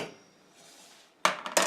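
Metal pot clatters as scalded millet is tipped into it, two sharp bright clanks near the end after a quiet stretch of faint handling.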